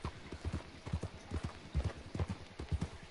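A horse's hooves clip-clop at a steady walking pace in the video game Red Dead Redemption 2, close, clear, paired thuds in an even rhythm with no talking over them.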